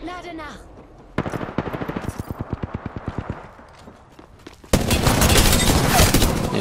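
Rapid automatic gunfire from a low-recoil weapon in Apex Legends, a steady burst of evenly spaced loud shots, followed by a dense, heavier roar of combat noise with brief speech before the burst.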